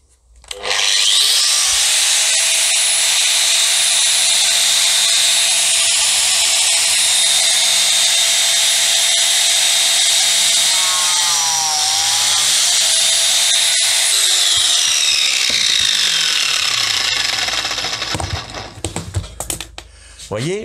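PFDF 900 A1 biscuit joiner motor spinning at a high, steady whine for most of the clip, with brief pitch shifts midway and a falling tone as it winds down near the end.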